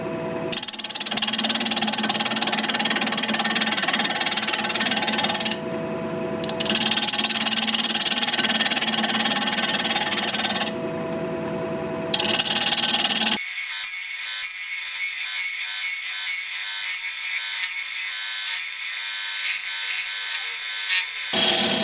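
A wood lathe turns a tenon on the bottom of a piece, the tool scraping in sustained bursts with brief gaps, then giving way to a quieter whirring hum of the spinning lathe.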